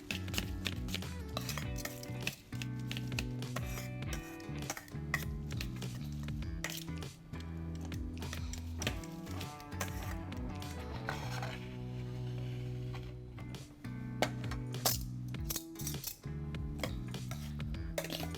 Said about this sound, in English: I'm gonna give this a nice toss. Mix everything together.